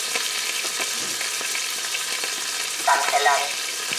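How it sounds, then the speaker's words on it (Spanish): Almonds frying in a GM F multicooker pot, a steady close hiss with small crackles and pops, and a brief clinking stir near the end. "Vamos a sofreír un poquito la almendra"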